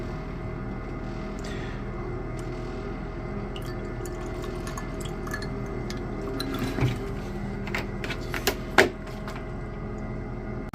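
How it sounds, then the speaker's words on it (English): Distilled water trickles and drips into a chemical solution, a quiet steady liquid sound over a constant low background hum, with a few louder splashes near the end. "I'm going to go ahead and add just a little bit of distilled water."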